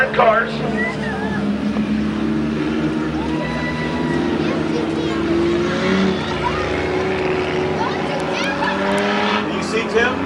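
Several race cars rumble and whine around a figure-eight track at Midvale Speedway during a night-time destruction event, a steady engine drone with a crowd and a loud announcer talking over it.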